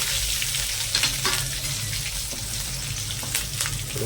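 Curry leaves, asafoetida and green chillies sizzle in hot oil for a Gujarati yogurt tempering, a continuous close crackling fry with a few soft stirring clicks.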